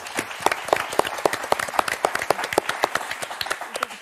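A studio audience at a French televised word game show claps steadily, a dense run of crisp hand claps close and fairly loud, without talk.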